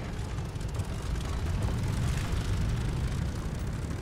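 A steady, loud drone from an airplane engine in the World War II video game Vanguard, with a constant low roar and broadband wind noise that stays fairly even for several seconds and has no talk over it.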